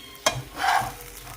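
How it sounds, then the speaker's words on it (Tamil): Onion and tomato frying in a pan with pepper and salt, a sharp scrape of stirring followed by a brief burst of sizzle over a low steady hiss. "இதில் கொஞ்சோண்டு மிளகுத்தூள் உப்புத்தூள் போட்டு ஃப்ரை பண்ணி எடுத்துக்கணும்"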